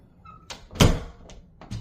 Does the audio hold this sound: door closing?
yes